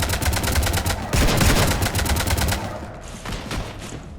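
Sustained gunfire in Mass Effect 3, a loud rapid volley of many overlapping shots that thins out and fades toward the end, with no speech.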